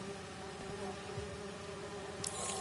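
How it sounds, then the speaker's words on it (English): Bees buzzing in the video game Marvel's Spider-Man 2, a steady, low droning hum that fills the scene softly and continuously, with no speech over it. "Harry says you're working with bees."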